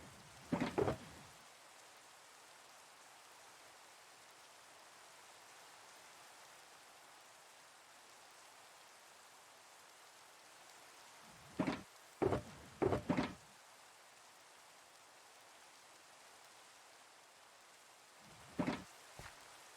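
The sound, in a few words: rain falling in Minecraft video game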